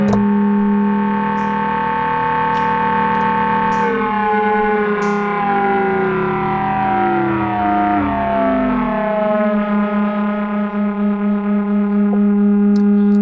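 A loud synthesizer drone from a sine wave fed into ring modulation, metallic and clangorous, its inharmonic overtones sliding and warbling, with a few faint clicks at the start.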